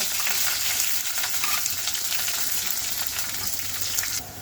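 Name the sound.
onion and green chilli pieces frying in oil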